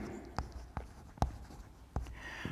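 Chalk or marker strokes on a board during a Class 10 geometry lesson on Thales theorem: a handful of sharp, separate taps and scratches spaced about half a second apart, close and fairly quiet, with no talking.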